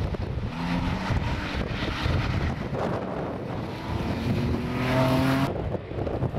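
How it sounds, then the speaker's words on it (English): A Porsche 911 rally car runs a forest stage in mid Wales, its engine note rising and falling as it passes at a distance, partly masked by heavy wind buffeting on the microphone. "The Porsche 911 in the hands of Paul Mankin and Desmond Bell next on stage."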